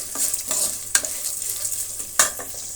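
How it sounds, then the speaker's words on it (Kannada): Chopped ginger and garlic frying in a pan for coconut rice, a close bright sizzle broken by stirring scrapes and a few sharp spoon knocks against the pan, with no voices. "ಕಟ್ ಮಾಡ್ಕೊಂಡಿರೋದನ್ನು ಮತ್ತು ಬೆಳ್ಳುಳ್ಳಿ ಕಟ್ ಮಾಡ್ಕೊಂಡಿರೋದನ್ನು ಸೇರಿಸೋಣ. ಇದು ಕೂಡ ಸ್ವಲ್ಪ ಫ್ರೈ ಆಗಲಿ."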